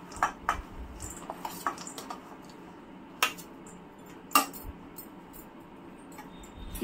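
Dry fruits stirred into a sugar-free mixture in a pan, with a handful of sharp metallic clinks and taps of a spoon against the pan scattered over a quiet background.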